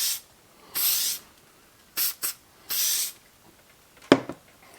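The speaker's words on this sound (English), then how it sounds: "just a couple of shots of some rust prevent" Several short hissing bursts of rust preventive sprayed onto a shotgun's recoil spring and follower during a deep clean of a Benelli inertia-driven shotgun, each burst about half a second, close and fairly quiet, with a sharper click near the end.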